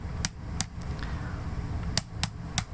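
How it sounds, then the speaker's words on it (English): Sharp, close plastic clicks from the ratcheting arm and shoulder joints of a Joy Toy Mecha Strike action figure, a few isolated snaps over a low background hum. "you can hear the ratcheting joints for the arm, for the shoulders, full 360 movement"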